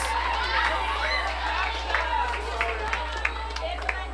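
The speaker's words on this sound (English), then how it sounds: "Keep the applause going, ladies and gentlemen. Orange House." A school-awards audience at Charles E. Mills Secondary School claps for Orange House, with steady applause mixed with crowd chatter and scattered sharper claps.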